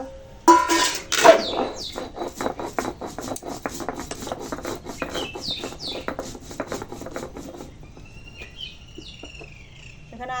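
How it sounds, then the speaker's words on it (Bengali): Cumin seeds being ground on a grinding stone, a steady rasping rub repeated in quick strokes at close range, with birds chirping and a rooster faintly in the background. "এখানে এই জিরেটা আগে বেটে নেব"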